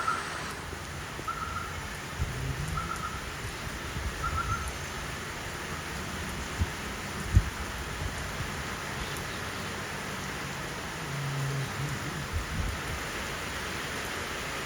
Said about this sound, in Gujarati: લાઈવ વરસાદ જોવાનો અનોખો નજારો આજે મળે